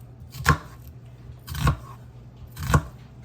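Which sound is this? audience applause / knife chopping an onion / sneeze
knife chopping an onion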